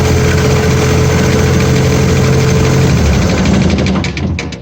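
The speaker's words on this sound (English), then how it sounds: "Right here, engine is running." A Vermeer BC1000X wood chipper's engine runs at a steady idle, loud and close, with a constant low drone and vibration. It fades slightly in the last second.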